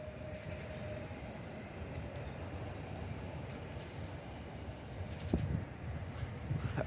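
A Koleje Mazowieckie Flirt airport train pulls out of Warszawa Wschodnia station, a faint, steady low rumble and hum of rolling stock, heard from a distance, with a brief clank near the end.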